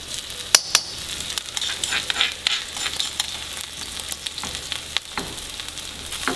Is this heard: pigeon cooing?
no